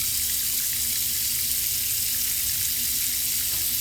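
Tap water runs steadily into a sink while a face is rinsed, a continuous close splashing hiss with no voices.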